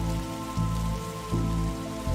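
Steady rain in The Darkside Detective, a continuous hiss of drops falling on a surface, with a low droning tonal hum beneath it and no voices.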